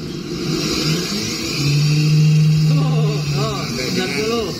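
A Honda Beat Hybrid scooter engine revs in second gear, a steady droning hum that swells to a sustained higher-pitched tone before easing off, with people talking over it.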